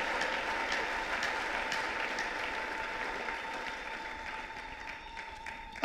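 A church congregation applauds the Lord during a service, sustained dense clapping from a large crowd filling the room at steady loudness for several seconds.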